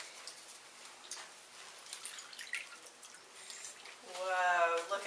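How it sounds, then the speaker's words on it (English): Water poured into a cup for a fish, a soft trickle under background chatter that swells into a louder, gurgling pour near the end. "Let's put some water in there for the fish."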